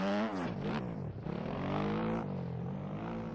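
Kawasaki dirt bike engine in the MX Bikes motocross game, a steady, loud buzzing drone with rising and falling revs throughout, no talk.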